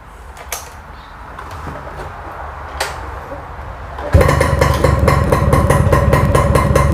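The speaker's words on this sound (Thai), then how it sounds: "เดี๋ยวเรามาติดเครื่องดูครับ" A Yamaha Mate 111 motorcycle, an older factory-original bike, sits quiet with faint rustling until its engine fires abruptly midway and settles into a loud, steady, buzzing idle close by.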